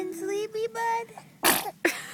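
A small child sneezes twice in quick succession, two sharp bursty sneezes coming close together after a few seconds of soft vocal sounds, loud and near.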